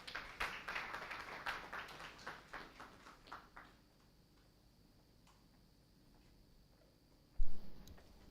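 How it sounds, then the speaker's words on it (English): Scattered clapping from a conference audience at a business ethics event, a few claps tapering off within about four seconds, followed by quiet room tone and a brief bump near the end. "A big round of applause, please."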